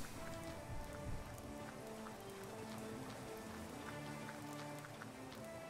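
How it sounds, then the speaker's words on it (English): Rain falls softly and continuously in the video game Clanfolk, a faint, even patter with scattered droplet ticks and faint tonal game sounds beneath, with no talking. "people are walking around in the rain here"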